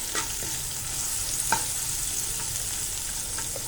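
Fenugreek seeds frying in hot oil for kadhi: a close, steady crackling sizzle with scattered pops and light scraping from stirring.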